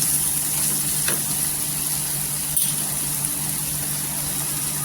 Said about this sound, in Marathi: छान असं तेलावर परतायचं